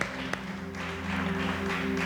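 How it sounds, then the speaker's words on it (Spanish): A church congregation applauds during a sermon, a moderate, sustained patter of clapping over a held low instrumental drone, with one sharp tap near the start. "Dale ese aplauso grande al Rey"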